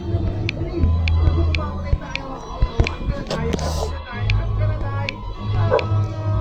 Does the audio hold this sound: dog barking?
yes